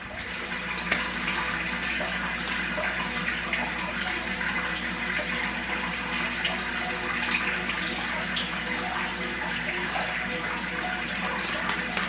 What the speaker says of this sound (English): And now I am putting clean water in there